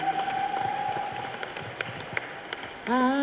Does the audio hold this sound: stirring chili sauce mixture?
no